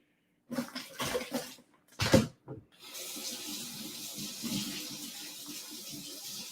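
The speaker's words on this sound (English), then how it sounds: "Now I'm gonna wash these green onions because they're very dirty." Running tap water streams steadily over muddy green onions in a kitchen sink, starting after a few short bursts of handling noise and continuing as a soft, even splash.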